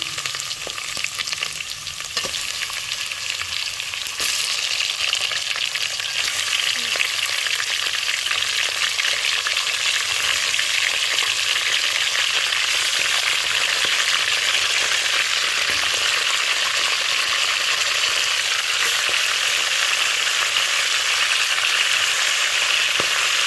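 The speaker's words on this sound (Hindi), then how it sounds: "चिकन को अच्छी तरह फ्राई करेंगे" Chicken frying in a pot for degi-style chicken korma, a steady, loud sizzle that runs continuously with occasional stirring scrapes, no voices.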